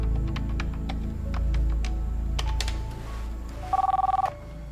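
A telephone rings in an Indonesian drama scene: repeated short electronic trills in a steady pattern, with a brighter, louder ring burst near the end, heard clearly with no talk over it.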